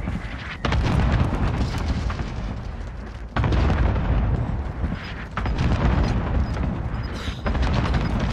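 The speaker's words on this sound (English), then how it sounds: "Allied cluster strike inbound." A cluster strike in Call of Duty: Modern Warfare pounds the area with loud, continuous rumbling explosions, the barrage coming in several heavy waves with brief gaps between them.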